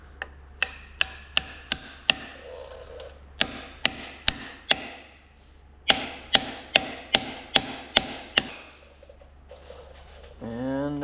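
Driving an axle seal into a telehandler axle with a 1 7/8 inch socket used as a seal driver, three bursts of loud, evenly spaced sharp hammer blows with short pauses between, followed by a brief rumble.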